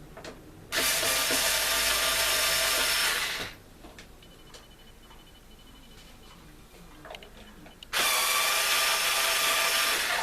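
Power screwdriver running on a GE box fan, with two loud, steady bursts of whirring, one about three seconds long near the start and another near the end, separated by quiet handling noise.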